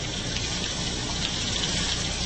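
Water rushes steadily through a hydroelectric plant's turbines, a dense, continuous roaring gush at an even level with no pauses.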